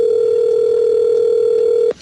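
A steady telephone dial tone from a prank phone call tape, a single unbroken electronic hum that holds loud and even for about two seconds before cutting off abruptly.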